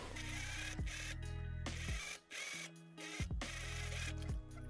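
A sewing machine stitches a dress sleeve seam in several short runs of rapid mechanical clattering, each ending with a brief stop and pause, close and fairly quiet.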